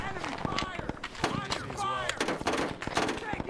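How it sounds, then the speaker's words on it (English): Gunfire in a Vietnam-era online shooter game, sharp repeated bursts and shots cracking close by amid a tense exchange, mixed under excited player voices talking over the action. "Enemy fire!"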